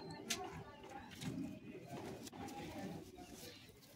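Madrasi high-flying pigeons in a loft near Howrah, Kolkata, give soft repeated coos and rustles nearby, mixed with people talking in the background.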